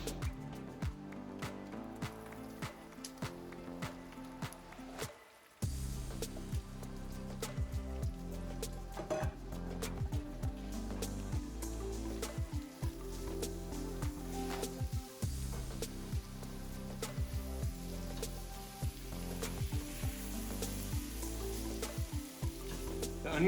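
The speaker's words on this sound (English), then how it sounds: "Now that the bacon is starting to render, we have a little bit of fat in the bottom of the pan here" Bacon renders in a pan with a steady, crackling sizzle that continues throughout, with a brief dip partway before it resumes at a moderate, close level.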